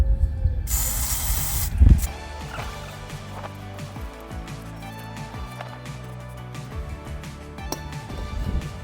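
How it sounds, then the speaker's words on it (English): A loud burst of aerosol mass air flow sensor cleaner hisses for about a second while cleaning a Nissan Juke's sensor, followed by clicking, ratcheting mechanical sounds and light clinks. "I've got some air sensor cleaner. I'm going to spray that inside"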